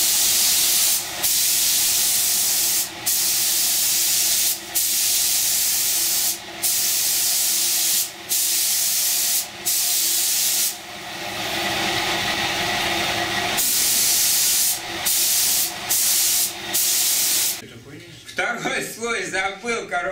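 A paint spray gun coats a car panel in long, loud hissing bursts separated by brief pauses, with a rougher, broken spray at the very end.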